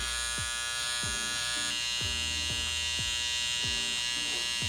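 An electric hair trimmer buzzes steadily and close while outlining a textured haircut, with repeated short clicks and changes in tone as the blades touch the hair.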